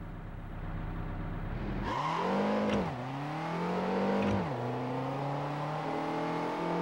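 A combat racing car engine in Jak X on PS2 revs up sharply, climbing in pitch, dropping on shifts, then surging again, loud and close with no talk.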